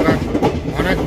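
A train at Berhampur railway station in Odisha gives a close, continuous rumble with uneven rattling pulses and muffled voices mixed in.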